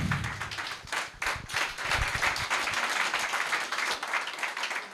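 A church congregation at a praise and worship service applauding, a dense, loud wash of many hands clapping that carries on steadily for several seconds.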